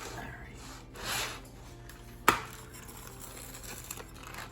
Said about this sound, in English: I like these wheel cutters